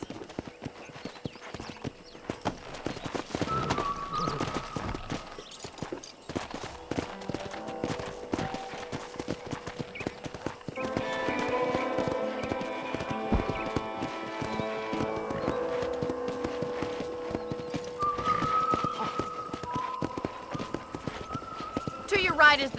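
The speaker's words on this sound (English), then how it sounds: "let's see if you can still ride a horse" Horse hooves clip-clopping in Red Dead Redemption on PC as a rider moves around a ranch, a steady rhythmic patter throughout with occasional whinnies, under in-game talk and a few musical tones.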